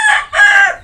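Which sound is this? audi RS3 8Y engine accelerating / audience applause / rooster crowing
rooster crowing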